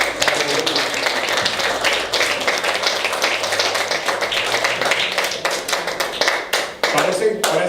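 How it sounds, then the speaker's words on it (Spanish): A church congregation applauds with continuous, dense clapping and rhythmic tapping, while voices carry faintly underneath. "Vamos a dar un fuerte aplauso al Señor porque Él es bueno."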